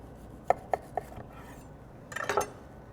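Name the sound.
knife slicing into a bacon mushroom Swiss burger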